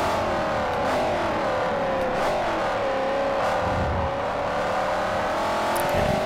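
Race cars in the Forza Motorsport 4 video game overtake, their engines giving a loud, continuous high whine that rises and falls in pitch as they accelerate and shift, with no voices over it.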